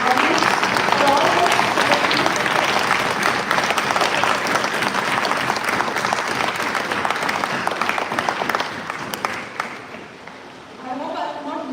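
Audience clapping at a live medical college event, dense and loud at first, then thinning and fading toward the end as a little sound picks up again.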